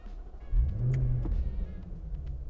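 A 2021 Jaguar F-Pace SVR with a supercharged V8 starts up. A deep rumble rises suddenly about half a second in and settles into a steady, close, low idle with no one talking.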